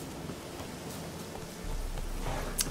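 Steady rain hisses in The Witcher 3: Hearts of Stone, a dense even wash of downpour that thickens partway through, with a faint rumble underneath and no voices.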